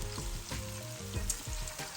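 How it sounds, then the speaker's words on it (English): Onions frying in the same hot oil used earlier for frying chicken, for a chicken stew, give a steady close sizzle with soft crackles and occasional stirring knocks, and no one speaks. "I'm using the same oil, okay, as I use for frying the chicken. So I would like the onions to fry nicely."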